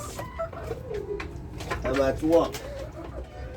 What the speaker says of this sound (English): I'm feeding the chick. These birds, they need food.